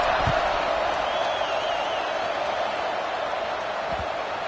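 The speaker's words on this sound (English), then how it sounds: "this crowd now ready to get behind them" Stadium crowd noise from a College Football 26 game, a steady broad roar of cheering fans at a kickoff after a touchdown, constant and fairly loud with a faint whistle-like tone drifting over it.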